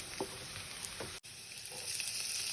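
Garlic frying in a pan, a steady hissing sizzle with a brief stirring scrape, continuous and close with no talk.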